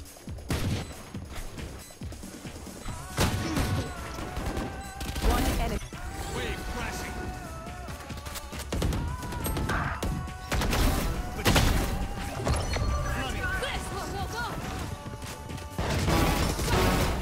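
Gunfire in the Valorant video game pops off in scattered sharp shots and crashes through a tense round, with players talking over the action.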